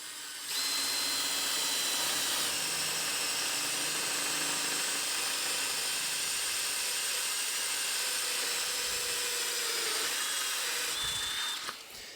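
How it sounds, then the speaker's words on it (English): A power drill drilling a hole whines steadily for about eleven seconds at high pitch, loud and close, with a faint grinding texture underneath, then stops. "let me get the drill"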